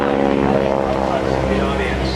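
Caveman Flight aircraft of the GEICO Skytypers rolling in at the 2010 Jones Beach airshow, a loud steady propeller drone droning over an announcer's voice throughout.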